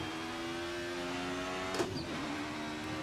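Car engine in Assetto Corsa racing simulation, a steady droning tone that briefly spikes and wavers in a short over-rev before settling back, heard alone at moderate-to-faint level.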